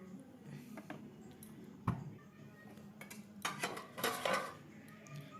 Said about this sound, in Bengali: তো এটা আমি এখন ঢাকনা খুলে দিলাম